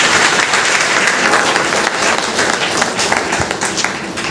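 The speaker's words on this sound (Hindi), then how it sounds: "मैं चाहूँगा मेरे माँ बाप के लिए जोरदार तालियों के लिए।" Loud, dense applause from the crowd at a public meeting in Basti, a steady wash of clapping that fills the whole stretch without let-up.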